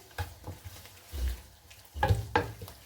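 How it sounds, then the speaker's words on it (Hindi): A spoon scrapes and stirs salt and crushed red chilli through a masala for green chickpea pulao, giving a few soft, irregular scrapes and light sizzles close by. "सभी चीज़ों को अच्छे से मिक्स करेंगे"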